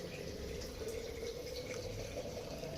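Water is poured into a cooking pot for rice during biryani preparation, making a faint, steady, continuous rushing flow with no talking.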